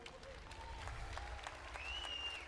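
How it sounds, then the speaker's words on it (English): An audience claps steadily at a women's timbersports championship, with talk and a brief whistle-like tone over the applause. "we'll give a big round of applause for Katrina Head"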